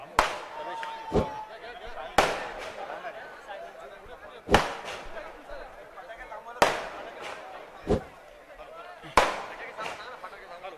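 Firecrackers burst sharply at a street gathering during a political leader's branch visit, five loud cracks spaced roughly two seconds apart over a steady crowd murmur, with people talking throughout.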